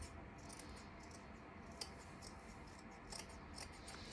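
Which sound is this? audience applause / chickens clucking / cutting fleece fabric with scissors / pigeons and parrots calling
cutting fleece fabric with scissors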